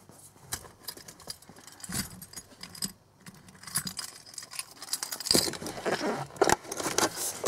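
Keys jangle and scrape in bursts at close range, with faint metallic clinks, around a Chevy/GMC truck during fuel pump and sending unit work; no talk.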